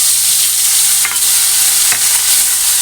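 Soybean mixture with tomato ketchup fries in a pan with a steady, loud, close sizzle, broken by a couple of brief stirring scrapes near the middle, and no voices.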